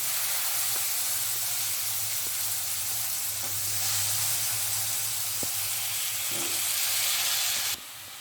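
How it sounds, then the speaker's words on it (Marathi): Beans and potatoes stir-frying in spiced oil, a steady loud sizzle with occasional light scraping of a spoon in the pan, no voices. "तर जरा 2 ते 3 मिनिटांसाठी हे मसाल्यात आणि तेलात चांगलं कोट होईल आपले शेंगा बटाटा, एवढं परतून घेऊया"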